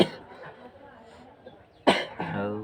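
A single sharp cough bursts out near the end of a short stretch of a Hindi physics lecture, close and loud, set against a quiet room with faint background murmur.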